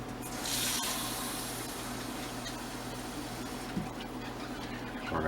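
Cool water pours steadily into white cake mix in a kitchen bowl, a continuous watery splash running for several seconds at moderate, close level with no talking.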